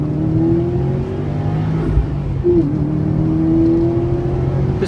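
A 2015 Subaru WRX STI with a 2.5-liter turbocharged boxer four-cylinder accelerates on a race track, its engine droning loud and steady with a rising whine and a brief shift dip midway.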